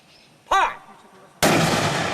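A CRPF 51mm mortar fires at a training range: a sharp thump with a brief ringing whoosh, then after a short pause a loud sustained roaring burst that runs to the end.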